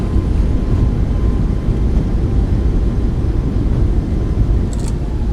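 Steady broadband roar from the iFly Boeing 737 MAX 8's thrust reversers during landing rollout in Microsoft Flight Simulator, a loud continuous rumble with heavy low end that holds level throughout without any talk.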